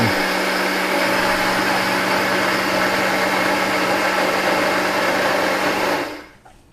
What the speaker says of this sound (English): I'm going to take this oatmeal and I'm going to blend it. Get this in a blender